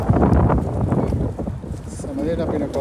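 Wind gusts buffet the microphone, a low rumbling roar that persists throughout, with faint sounds in the background.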